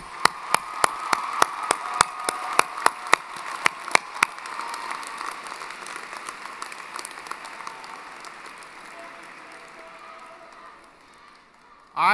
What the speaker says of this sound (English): please join me in welcoming your family and friends with a round of applause